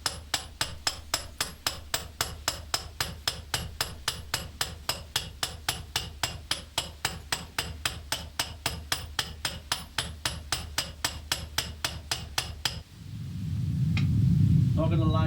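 Rapid, steady chipping taps of blocks being mined in Minecraft, a close, even rhythm of dozens of strikes, then a low rumbling bed of game sound takes over near the end.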